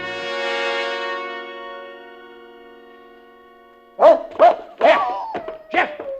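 Dog barking in an old radio horror drama, several sharp close barks in quick succession following a sustained organ chord that fades to near silence.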